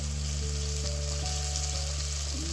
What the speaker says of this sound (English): now I'm putting in the eggplants.